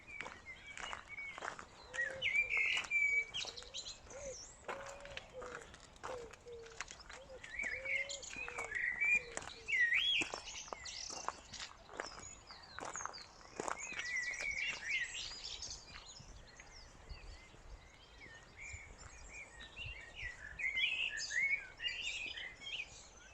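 Birds sing and chirp outdoors on a walk, several calls overlapping at moderate distance, with soft footsteps and faint background ambience throughout.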